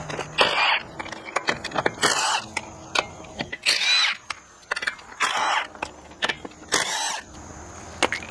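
A power tool removes the front wheel from a 2004-2013 Mazda 3 in short, loud whirring bursts, about six over several seconds, with brief pauses between them.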